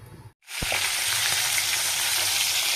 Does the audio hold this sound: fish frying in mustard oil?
yes